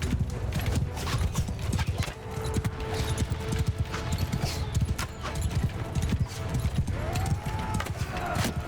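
Horse hooves pound in a fast clip-clop gallop in the medieval combat game Mount & Blade II Bannerlord, loud and continuous over clattering battle noise, with an occasional whinny rising briefly near the end.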